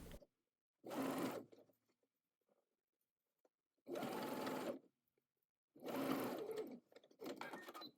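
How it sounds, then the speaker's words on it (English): Sewing machine stitching a gathered ruffle onto an apron pocket at half an inch, three separate bursts of fast whirring stitches about a second each with silence between, close and clear. "Line up the right side of the gathered edge of the ruffle to the wrong side of the top edge of the pocket and sew at 1/2 inch"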